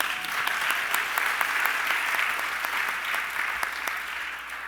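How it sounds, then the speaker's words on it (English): Audience applause at a fashion media awards ceremony, a steady dense clapping from a large crowd that holds at full strength throughout without pause. "Let's give it a round of applause."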